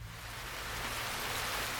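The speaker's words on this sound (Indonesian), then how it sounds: "It was raining when I woke up this morning." Steady rain falls in a continuous, even hiss with a low rumble underneath, close and moderately loud, with no voices.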